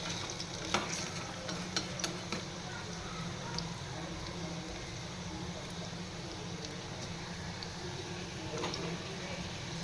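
Onion and potato bhaji frying in hot oil, a steady close sizzle and bubbling throughout with a few light clicks of stirring on top.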